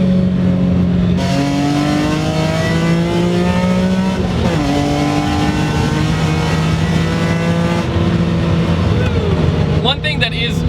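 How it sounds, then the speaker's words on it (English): A BMW E46 M3 engine is revved hard to 8000 rpm, pitch climbing in repeated sweeping pulls through the gears with a raspy, continuous wail, loud and close throughout. "Revving to 8 is so glorious."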